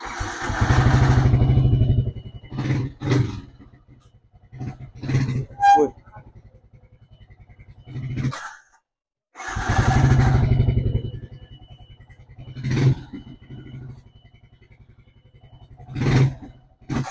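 A motorcycle engine with a newly replaced clutch, being tested after the work, revs in several loud, close bursts separated by quieter idling and short pauses.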